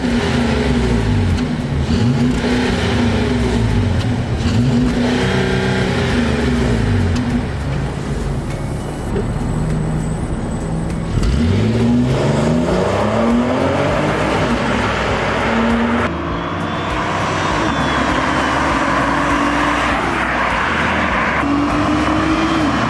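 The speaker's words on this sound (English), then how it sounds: "So what's it like driving a 2012 Audi Q5 Prestige Edition?" A 2012 Audi Q5 Prestige SUV being driven, with a loud continuous engine drone and road rumble that rises and falls through several gear changes and accelerations, heard without speech.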